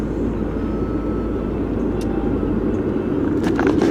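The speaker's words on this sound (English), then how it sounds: "why are there all these helicopters?" Helicopters fly overhead with a steady, heavy low-pitched rumble that fills the whole stretch without a break, loud and continuous, with no voices.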